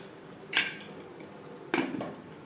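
Mutton with potatoes being stirred in a cooking pot, two short metallic scrapes and clinks of a spoon against the pot over a quiet background.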